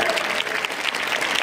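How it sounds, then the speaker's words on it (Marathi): Steady applause from a crowd at a school annual prize-giving ceremony, dense continuous clapping throughout with no pauses. "टाळ्यांचा आवाज कमी येतोय."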